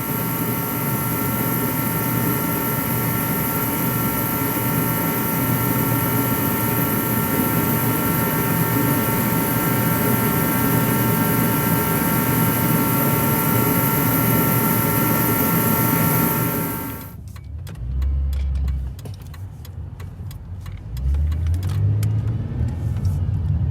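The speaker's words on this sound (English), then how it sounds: "Still a bit of a power steering whine." A Ford Taurus power steering pump whines steadily at idle under engine hum for a long stretch, then the running sound cuts away abruptly into quieter clicks and low thumps.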